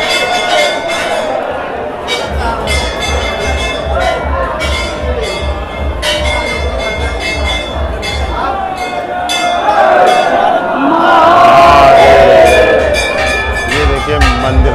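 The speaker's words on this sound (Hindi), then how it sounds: "वहाँ पे बहुत भीड़ है" A dense crowd of pilgrims murmurs at a Shiva temple during Mahashivratri, with clinks and bell-like rings over a steady hum of voices that swells louder toward the end.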